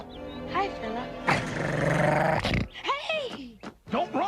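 A dog growls and snarls loudly for about a second, followed by voices talking in short excited bursts.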